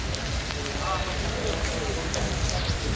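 Heavy rain pours down at a river launch ghat in Barishal, a dense, even hiss of drops striking surfaces all around with no pauses, loud and close.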